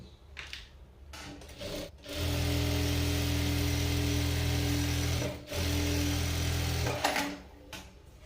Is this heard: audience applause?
no